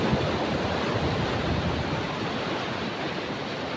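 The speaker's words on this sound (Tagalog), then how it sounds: "Malakas yung alon dito!" Strong ocean waves break in a constant loud wash of surf, close by and mixed with wind buffeting the microphone, with no voices.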